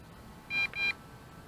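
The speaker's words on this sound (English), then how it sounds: "2 beeps," Two short, close electronic beeps sound back to back from a Potensic D80 drone as its camera starts recording. Both tones are clear and equal in length, set against faint background hiss.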